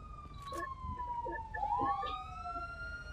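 A wailing ambulance siren in Grand Theft Auto V rises and falls in pitch, moderately distant against low street rumble, with no talking.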